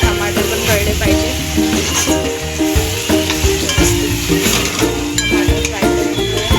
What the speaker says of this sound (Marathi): टमाटरला सुद्धा आपण चांगलं व्यवस्थित फ्राय करून घेऊया.